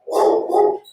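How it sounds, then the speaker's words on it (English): A dog barks twice in quick succession indoors, loud and fairly close, two short full-voiced woofs with a slight whine trailing off, no talk over them. "Please excuse my dog in the background."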